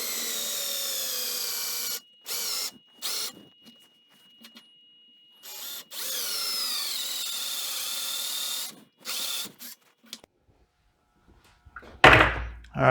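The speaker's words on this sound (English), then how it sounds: "All right, I got those holes drilled" Power drill boring 3/8-inch holes into a scrap block of wood, several sustained whirring bursts with pauses between them, close and fairly loud, then a sharp clatter at the end.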